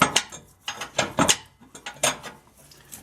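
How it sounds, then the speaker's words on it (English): Metal clicks and ratcheting clanks from a wrench turning a nut on the driver's side of a truck's rear frame, near and in irregular bursts, with no talk. "Put the wrench in on the driver's side."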